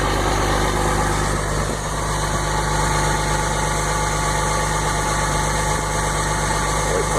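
2006 Dodge Cummins diesel engine on fast idle after a cold start on a freezing morning, a loud steady rumble with a constant clattering drone, close and unbroken.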